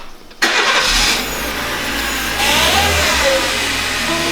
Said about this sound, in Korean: 시동을 걸어 놓으니까 엥 소리가 나죠.